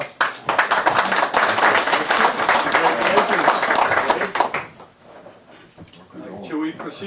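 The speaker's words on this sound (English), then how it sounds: "Let's give Wade a applause." A meeting room breaks into applause for Wade, a burst of close, sharp clapping lasting a few seconds before fading out as scattered voices and room noise take over.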